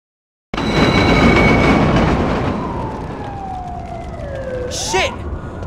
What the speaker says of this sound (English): This train's had it!